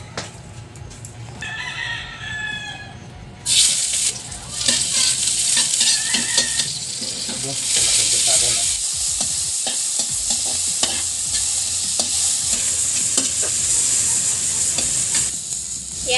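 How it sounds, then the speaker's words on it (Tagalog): Ingredients sautéing in a pan, with a loud sizzle that jumps up partway through and then holds steady alongside stirring scrapes, with a rooster crowing faintly in the background at the start. "Gisa muna natin yung ating ano. mga ingredients."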